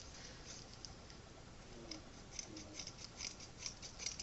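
Scissors snipping upward into long blunt bangs, a run of quiet, crisp cuts that grow more frequent toward the end, close and soft with no talking.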